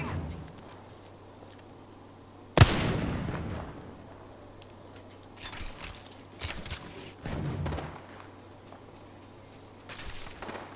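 Gunfire in the Apex Legends battle royale game: one sharp, loud shot near the start, then a few scattered shots and bursts over the following seconds, with quieter game ambience between them.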